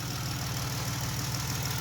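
A car engine idles steadily with a low, even rumble and a faint regular ticking from under the hood, a continuous close drone without voices.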